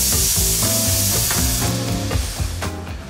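White wine poured into a hot pan of mushrooms and prosciutto sets off a loud, steady sizzle and crackle that stays close and continuous throughout, with no talking.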